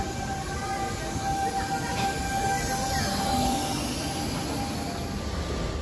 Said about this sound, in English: I missed part of the train coming in, but I did catch some of it